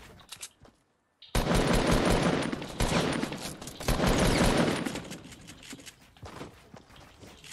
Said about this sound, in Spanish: Le están disparando desde otro sitio.